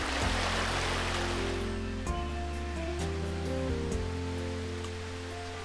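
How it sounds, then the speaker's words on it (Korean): A forest mountain stream flowing steadily, its continuous rushing water close and fairly loud, filling the whole stretch with no clear birdsong standing out above it. "새 소리도 들려오고 졸졸졸 계곡물 흐르는 소리도 들려오는데"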